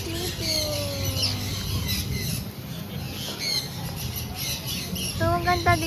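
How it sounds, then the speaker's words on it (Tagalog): Birds inside an indoor biodome give repeated squawks and chirps among the hum and chatter of a crowd, with a louder burst of calls near the end. "kung dala mo yung popcorn mo, pupuntahan ka ng mga ibon"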